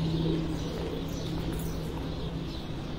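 Pigeons in a netted loft at a Farran pigeon tournament in Gujrat give low, steady cooing over continuous outdoor background noise, close and fairly loud throughout.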